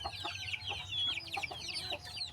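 Hens in a coop where they lay eggs, clucking softly and repeatedly in short bursts, close and fairly quiet.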